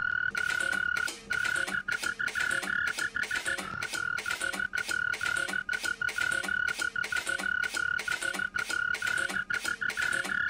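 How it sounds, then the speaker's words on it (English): Frog croaks run through a Roland SP-404MKII slicer effect, chopped into a fast, steady stutter of loud, close bursts over a sustained tonal croak that holds through the whole passage. "I'm gonna spice this frog up a bit with one of my favorite effects on the 404"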